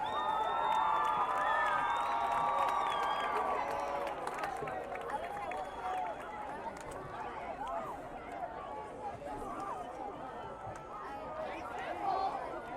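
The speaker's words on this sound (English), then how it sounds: "let's give them a round of applause for their accomplishments" A crowd at a Salina Central vs Goddard high school football game applauds and cheers for journalism students, a dense sustained roar of clapping and voices that lasts throughout, with an announcer's voice over it at the start.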